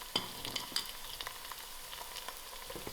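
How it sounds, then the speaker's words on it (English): Thyme, curry leaves, ginger and garlic fry in a hot pan with a steady crackling sizzle, punctuated by sharp pops and spatters as the aromatics hit the oil. "I'll allow this to fry"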